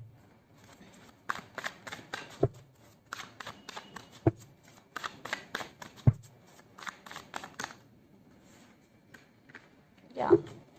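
Tarot cards being shuffled in a run of crisp riffling bursts and flicks, with a few sharper taps and a pause near the end, fairly close and moderately loud, with no talking over it.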